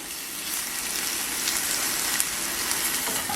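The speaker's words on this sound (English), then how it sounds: "For bacon, I don't need to add any oil to the pan." Bacon frying in a pan without oil gives a dense, even, close hiss that holds steady throughout, with no voices.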